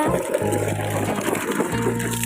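A newly drilled village borewell pump runs with a steady mechanical hum while water gushes out in a continuous, close, fairly loud wash with no talk.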